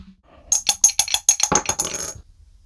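Dice clatter on a hard surface in a quick run of sharp, bright clicks and bounces, close and clear, settling after about two seconds with no talk.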